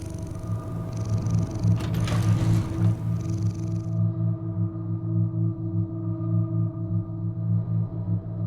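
A cat purrs steadily and close up, a continuous low rumbling drone that runs unbroken throughout, with a brief louder rustle partway in.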